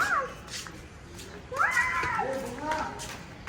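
A cat upstairs meows twice, a short cry then a longer rising one, fairly faint amid background chatter and household noise.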